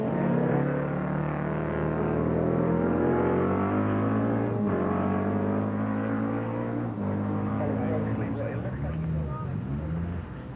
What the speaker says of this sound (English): Listen to the change in exhaust note.